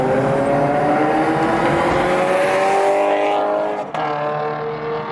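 A 2017 Toyota 86 860 edition fitted with an aftermarket Borla Touring axle-back exhaust drones steadily under acceleration, loud and continuous, with the engine note rising slowly before a brief dip near the end.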